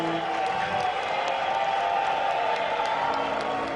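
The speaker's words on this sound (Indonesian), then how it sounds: "Kita berikan tepuk tangan untuk Republik Indonesia yang tercinta." Applause from a crowd at an Indonesian ceremony, continuous loud clapping with some cheering, filling the whole stretch evenly.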